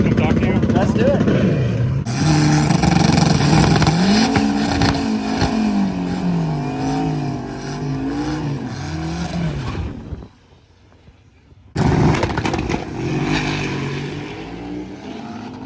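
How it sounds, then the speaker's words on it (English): A Honda K-Series engine swapped into a full-size truck revs hard and loud, its pitch climbing and wavering through several pulls, then cutting out briefly before roaring back in. "a little Honda K-Series in this full-size truck"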